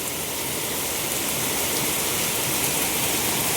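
Heavy rain pours down outside a house where the road is flooding, a dense, loud, unbroken hiss with no pauses and no voices.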